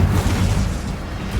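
A short, dense fiery blast from an Incendio spell in Hogwarts Legacy, a low booming rush that stays loud for its whole brief length.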